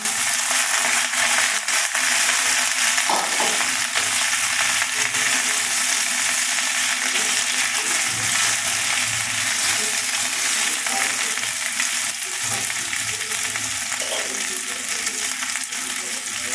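Boiled pasta fries in oil in a pan for a red sauce dish, giving a continuous close sizzle with occasional clinks and stirring scrapes throughout.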